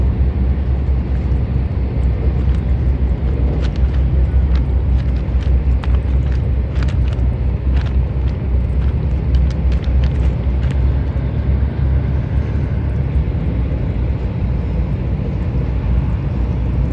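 A floatplane, such as a Cessna Skywagon or De Havilland Otter seaplane, drones at full power on the water, a loud, steady low engine roar with faint clicking on top, continuous throughout.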